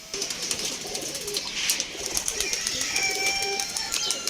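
Pigeons coo softly amid a flurry of wing flaps and rustling, with other birds chirping faintly in the background.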